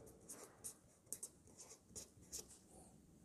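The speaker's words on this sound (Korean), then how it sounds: "이거 방금 읽었던 그 부분을 다시 써볼게요" Chalk or a marker scratches and taps in short, irregular strokes on a board during a Korean lecture on Confucian ethics. The sound is faint and close, with no talking.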